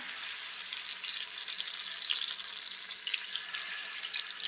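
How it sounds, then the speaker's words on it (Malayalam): Fish frying in a pan with curry leaves, a steady, moderately quiet hiss and crackle of hot oil with occasional louder spits, continuous and without talk. "നമുക്ക് മീനിട്ട് കൊടുക്കാം"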